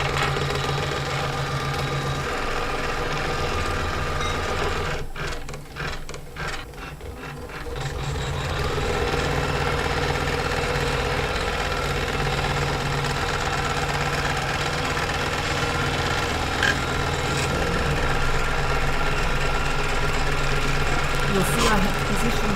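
A sewing machine bastes bag fabric down with a steady, close mechanical whir that dips briefly and stutters partway through, then runs on evenly.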